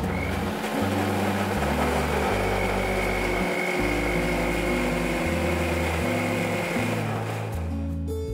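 An electric kitchen mixer grinds ginger and garlic into a paste, a loud steady motor whine with a pulsing, shifting low drone that runs continuously throughout.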